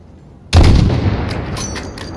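A single heavy sniper rifle shot from a Modern Warfare shooter game, a sharp loud boom with a rumbling decay trailing off over a couple of seconds, with faint distant sounds behind it.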